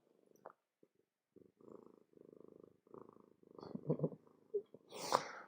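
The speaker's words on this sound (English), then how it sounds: "Listen to this purr." A cat purrs up close in soft, rhythmic rumbling bursts that grow louder and rougher toward the end, with a few small clicks and snuffles.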